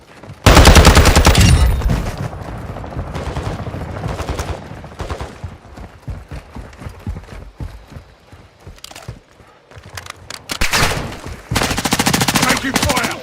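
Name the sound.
gunfire in video game Call of Duty Warzone 2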